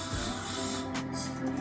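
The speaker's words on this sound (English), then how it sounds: "Spray the Lysol again." Can of Lysol disinfectant spray hissing indoors, a close, steady aerosol spray lasting about a second with a short extra puff after it.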